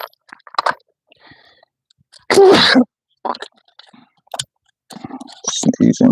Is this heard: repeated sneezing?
yes